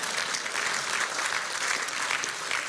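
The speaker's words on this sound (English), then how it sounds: "You can applaud if you want." An audience applauds steadily, a dense, even wash of clapping at moderate level throughout, with no voices over it.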